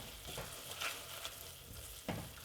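A boiling peanut brittle mixture of sugar and butter bubbles and sizzles steadily in a pan, with scraping stirs and a few sharper clicks against the pan, faint and close.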